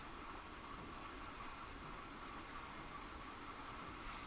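Trains pass in Train Sim World 2020 on the Great Western line between London Paddington and Bedwyn, making a steady, loud rolling rumble and rush that holds evenly throughout without voices.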